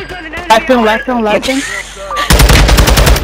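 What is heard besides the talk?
gunfire in the video game Chimera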